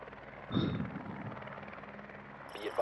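A game drone whirs with a steady buzzing hum, a helicopter-like drone moving close by at moderate loudness, with a brief electronic chime near the end.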